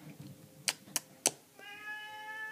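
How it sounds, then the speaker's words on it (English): Three sharp clicks or taps come first, then a house cat lets out a long, clear, loud meow close to the microphone in an otherwise quiet room. "My cat would not stop meowing."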